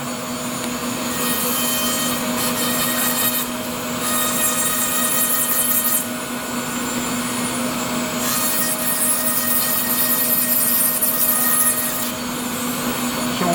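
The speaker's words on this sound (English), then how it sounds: "I'm also grinding the oxygen inhibitor layer so I can get a better, a more rough area" Dental grinder working the oxygen inhibitor layer on a denture base in front of a suction unit: a continuous high-pitched electric whine over a steady vacuum hiss, with the grinding pitch rising and easing in bursts.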